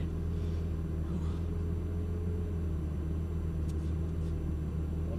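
A Lamborghini supercar drives around a track, heard as a steady, loud low engine rumble and road drone that holds evenly throughout with no voices.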